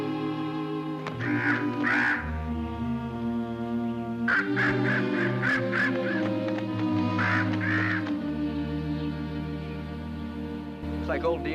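Crow cawing in a TV drama, several loud harsh caws in short bursts over a sustained orchestral music score.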